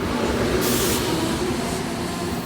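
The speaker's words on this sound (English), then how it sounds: "looks like they got an Amtrak somewhere down, coming out of New Brunswick." An Amtrak train passing on the Northeast Corridor near New Brunswick, a loud, steady rushing rumble of rail cars going by close at hand, with a brief hissing swell partway through.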